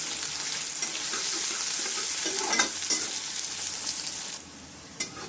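Chopped onion, one large one, stir-fried in a pan, a steady broad sizzle with scraping stir strokes, close and fairly loud, easing off near the end with a sharp clink of the spoon.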